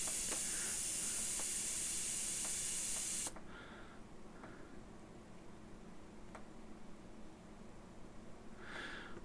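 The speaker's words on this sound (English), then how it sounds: "just using the air from the airbrush to dry that off a bit because it got a bit saturated" An airbrush blows a steady, loud hiss of air to dry saturated paint, cutting off abruptly after about three seconds, followed by quieter room noise with a few faint clicks and short puffs.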